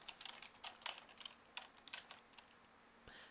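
Quiet keystrokes on a computer keyboard while entering CSS padding in Dreamweaver, with a run of irregular close clicks followed by a brief pause and a final tap. No talking is heard over the faint typing.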